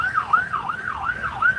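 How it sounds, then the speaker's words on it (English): An emergency vehicle siren wails in a steady, rising and falling cycle as it passes through downtown Asbury Park. It sounds loud and fairly close, with traffic noise underneath. "And we got a siren call."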